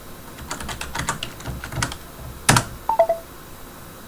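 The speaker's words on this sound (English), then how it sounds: "type something in, and it tells me I got a message incoming" A short video chat notification chime sounds as an incoming message arrives, a couple of quick bright tones following a burst of light keyboard typing, heard faintly and close up with no talking.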